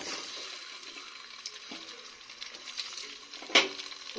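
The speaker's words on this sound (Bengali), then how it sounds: "এবারে আমি ফার্স্টে ডিমগুলোকে দিয়ে তেলের মধ্যে খুব ভালোভাবে ভেজে নেব।" Eggs fry in hot mustard oil, giving a steady, faint sizzle with light stirring and utensil clinks, then one sharper scrape near the end.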